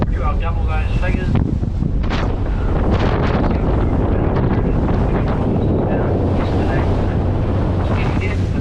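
Strong gusts roar across a boat at sea, buffeting the microphone with constant broadband rumble and hiss, while a voice speaks briefly near the start.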